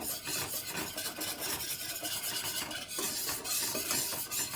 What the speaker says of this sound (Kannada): ಚೆನ್ನಾಗಿ ಮಿಕ್ಸ್ ಮಾಡ್ಕೋಬೇಕು ಮಿಲ್ಕ್ ಪೌಡ್ರ್ ಹಾಕಿ